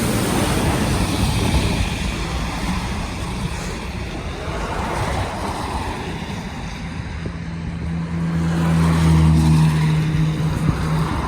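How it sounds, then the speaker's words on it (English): Passing cars on a wet road throw up a steady rushing hiss of spray, with a low engine drone building near the end, heard continuously and fairly loud. "Just be careful with all the spray off the cars and stuff, Luca."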